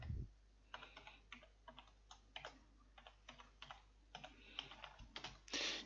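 Computer keyboard typed in short bursts of crisp keystrokes while entering a PowerShell command on Windows Server Core, close and clear with no talk.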